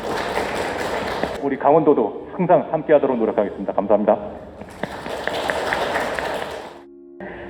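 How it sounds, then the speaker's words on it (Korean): Applause from a seminar audience at the Gangwon urban regeneration support center's third-anniversary event, honoring Professor Kim Seung-hee. A broad wash of clapping opens the clip, gives way to someone speaking, then swells again before fading. "김승희 교수님한테 큰 박수 한번 부탁드립니다"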